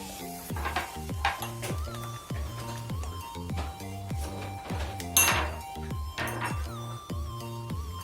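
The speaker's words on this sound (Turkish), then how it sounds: "Daha sonra irmiğimizi güzelce karıştırıyoruz" Semolina being stirred in a pot for a poppy seed semolina dessert: a steady, rhythmic run of scraping strokes against the pot, close and fairly quiet, with no voices.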